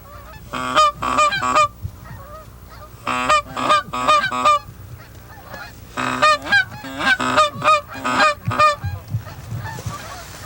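Geese honk in flight over prairie hunting grounds in repeated bursts of loud, nasal calls from several birds, clustered in quick groups with short pauses between them, close and clear.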